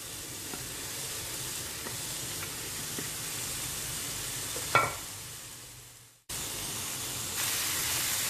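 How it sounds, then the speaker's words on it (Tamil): Chopped onion is stirred into a frying cabbage and egg mixture in a pan. A continuous close sizzle runs under occasional scraping stir sounds, briefly cutting out before the sizzle resumes. "வெங்காயம் சேர்த்து நல்லா இது கலக்கிக்கோங்க."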